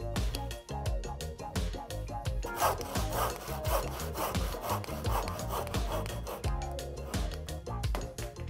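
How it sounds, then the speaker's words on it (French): A handsaw cuts a wooden tenon joint in steady, rhythmic back-and-forth strokes, close and loud, each stroke giving a rasping, rubbing scrape that repeats evenly throughout, with no voices. "Maintenant, il ne vous reste plus qu'à le scier."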